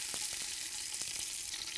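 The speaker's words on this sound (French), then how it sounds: "on va pouvoir mettre le poulet dans la casserole et même chose, on va le faire revenir tranquillement." Chicken pieces brown and sizzle steadily in a pan, a close, continuous frying hiss with faint stirring ticks and no voices.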